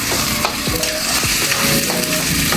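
Ground pork or beef giniling fries loudly in a hot pan, a steady dense sizzle with the scrape of a spatula stirring it through the meat, close and continuous with no talk.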